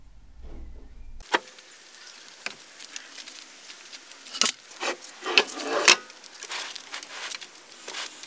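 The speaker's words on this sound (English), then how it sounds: "me unloading the wood in a massive hurry" Heavy pieces of wood are hurriedly unloaded from a van, with irregular scraping, rubbing and hollow thuds as timber knocks and slides, several sharp bangs clustered toward the middle against a quiet background.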